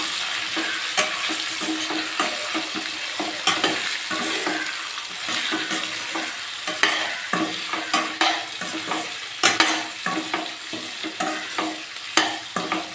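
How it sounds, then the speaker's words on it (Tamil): Garlic sizzles and frying in a pan for garlic kulambu as it is stirred, with steady crackle punctuated by repeated scraping strokes of the spoon, close and fairly loud with no talking. "நல்லா வணக்கி விட்டுக்கோங்க."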